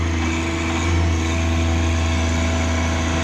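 A tractor engine runs steadily while digging out a farm pond, a continuous droning rumble with a low hum, close and loud, heard alone without talk.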